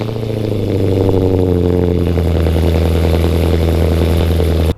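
A Chevrolet Camaro engine on a cold start, settling into a loud, steady, low rumbling idle with rhythmic exhaust pulses, close and with no talk.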